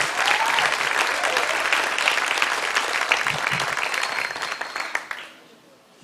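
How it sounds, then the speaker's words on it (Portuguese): A church congregation at a celebration service applauds loudly and continuously, dense clapping that fades out toward the end. "Pode aplaudir ao Senhor em nome de Jesus."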